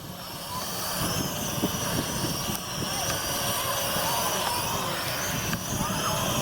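A Venom Pro GPS streaming drone flies over a park, giving a steady broadband rotor whir that stays constant and fairly loud the whole time, with no clear breaks.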